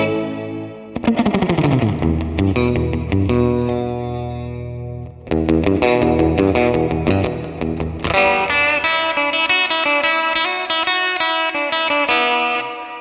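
Clean electric guitar through a Fender Mustang Micro's '57 Twin amp model with chorus, ringing strummed chords that decay and restart, shimmering and wide, then a brighter busier passage of picked notes.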